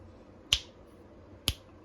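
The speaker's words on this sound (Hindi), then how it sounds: "आई जस्ट ट्राइंग कि ऐसे चुटकी बजा के ये सब कुछ चॉप हो जाए" Two crisp finger snaps about a second apart, close and loud against a quiet kitchen background during sandwich preparation, with a third softer click at the very end.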